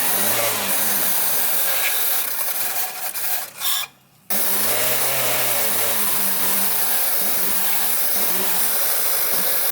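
The engine of a Suzuki Karimun runs while carburetor and injector cleaner is sprayed in, and the throttle is worked in repeated revs. The engine cuts out briefly, then returns to a rising and falling drone.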